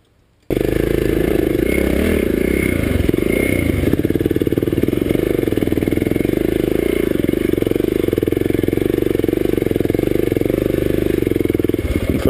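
A motorcycle engine runs loud and steady for about twelve seconds on a hard dirt surface in Araraquara, a continuous close rumble with slight clatter and no speech.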